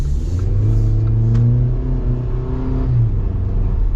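Loud cabin view of a 2025 Jeep Wrangler 2-Door with the 2.0 turbo engine accelerating, the engine note climbing, dipping at a shift, then pulling again steadily with no voices.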